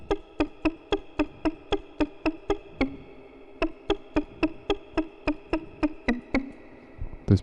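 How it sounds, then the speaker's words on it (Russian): Estradin 314 Solaris synthesizer playing a short plucked patch as the filter opens, around twenty crisp, evenly spaced plucks in a brisk steady rhythm with a brief pause midway, clear and close. "Сейчас я чуть-чуть фильтр открою, он чуть-чуть ярче станет, этот плак, но звук такой коротенький."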